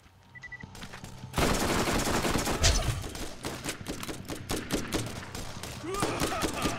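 Video game gunfire in Borderlands, shooting at an enemy: a dense, loud run of rapid shots and bursts, packed close together for most of the stretch, with a few heavier booms among them.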